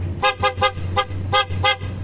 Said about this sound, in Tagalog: Pia horn lang yan guys, ha, pia horn.